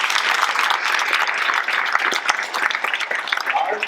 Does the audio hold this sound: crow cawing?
no